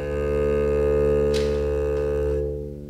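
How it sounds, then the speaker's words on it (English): Upright bass bowed with a rosined bow, producing a sustained, droning low note with rich harmonics that swells and then fades over about three seconds, played alone. "I'm going to bow this bass this time, so it's gonna sound different now"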